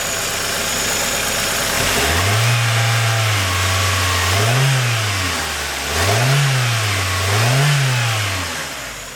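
A freshly rebuilt Toyota Corolla 7A-FE engine idles and then revs up and down several times in a rhythmic pattern during break-in, loud and close, with no talking.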